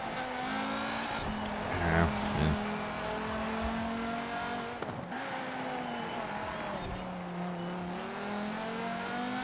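Forza Horizon 4 race car engine holds a steady, loud drone with shifting revs, joined by short tire squeals during cornering, continuous throughout with no talk.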